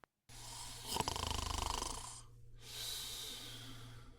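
A single loud snore rattles through an inhale, followed by a pause and a softer breathy exhale, close and alone.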